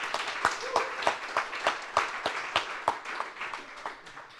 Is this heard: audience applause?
yes